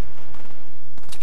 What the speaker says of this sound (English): because I got shot at.